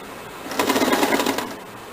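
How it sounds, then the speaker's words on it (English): A home sewing machine runs a side seam on the sleeve of a princess-cut blouse, giving one close burst of rapid, steady stitching that lasts about a second and then fades out, with no talk. "We are stitching the side seam of sleeve this way."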